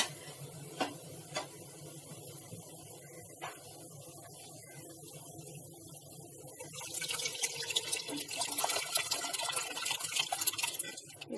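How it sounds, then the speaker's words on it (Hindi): Cooked dal poured into a pot of ghee and cream for dal makhani, a few soft taps at first, then a rising wet, splashy slosh that thickens toward the end, close and moderately loud. "ये सारी दाल डाल दी है हमने"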